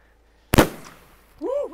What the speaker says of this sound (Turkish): Ne güzel patlıyorlar.